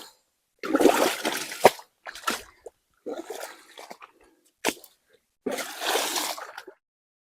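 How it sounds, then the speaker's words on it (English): A shovel works a ditch standing about eight inches deep in water, giving several separate wet scoops and splashy slops with short quiet gaps between them, close and fairly loud. "stand here in the ditch and do a little bit of digging"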